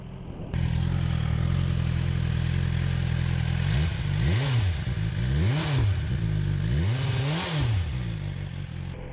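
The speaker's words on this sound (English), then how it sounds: "Let's have a quick sound of the engine." A 2020 BMW S1000XR motorcycle idles close by, then is revved three times in quick succession, each blip rising and falling before settling back to a steady idle.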